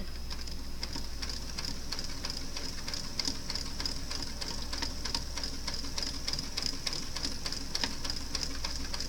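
A sewing machine stitching a lacy top runs in a steady, even ticking patter throughout, moderately loud and close, with no voices.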